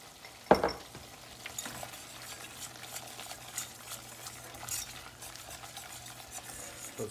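A whisk stirs flour paste for turkey pan gravy in a pan, a soft continuous scraping and swishing with one sharp clink near the start.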